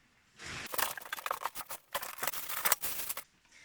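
A package holding a used Obao Hyper MT1 RC car chassis is unboxed, with close crinkling, tearing and rustling of packaging in quick, irregular bursts over a few seconds.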